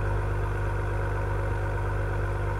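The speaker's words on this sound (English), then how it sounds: "Can you hear it idling in Sport Plus?" A 2021 Acura TLX Type S engine idling in Sport Plus mode, recorded up close, a steady, low, constant throbbing rumble with no other sounds.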